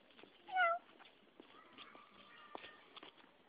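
A cat gives a single loud, close meow, with quiet shuffling and faint footsteps in the background.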